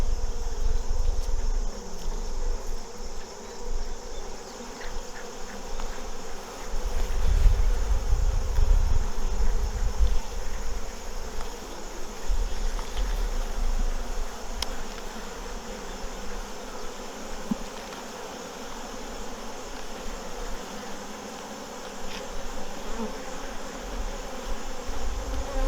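Honey bees hum around an open beehive during an August inspection, a dense, steady drone of many wings close by, with occasional low thumps and handling bumps underneath and no voices.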